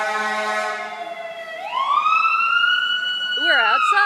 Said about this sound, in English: It gives me anxiety when sirens go by.